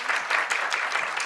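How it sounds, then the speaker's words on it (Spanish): Applause from the audience at a telemedicine conference session in Argentina, a steady dense patter of many hands clapping at moderate level, continuous through the short stretch with no talk. "Los despedimos a ellos nuevamente con este aplauso"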